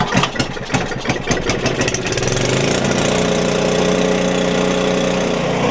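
A small engine pull-started with a recoil cord, a burst of sputtering and rapid firing that catches and settles into a loud, steady running drone close by.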